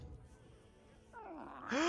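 A soft, rising cat meow in the fantasy role-playing video game Baldur's Gate 3, faint and brief, with a second brighter mew at the end over quiet ambient background.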